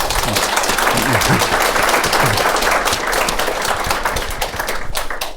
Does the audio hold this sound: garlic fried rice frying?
no